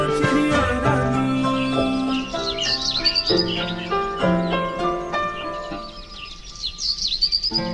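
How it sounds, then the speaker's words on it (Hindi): A children's cartoon song about a sparrow plays as bright melodic music. Bird-like chirps and tweets are woven through the tune, ending in a few quick high twitters. "चू चू करके दाना खाती फुर फुर करके उड़ जाती चिड़िया रानी"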